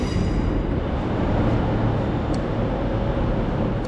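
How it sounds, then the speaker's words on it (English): A train pulls into a station on the Strathclyde network, giving a steady, loud low rumble throughout with no voices. "it looks like my train's arrived about 5 minutes prior to departure"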